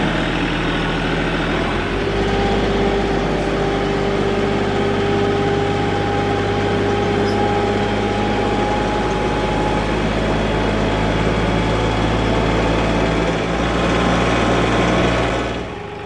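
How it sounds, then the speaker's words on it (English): A steady engine revving to around 2,000 RPM drones loudly throughout, a low rumble with a sustained mid-pitched whine, holding constant with no talking. "the engine's revving higher"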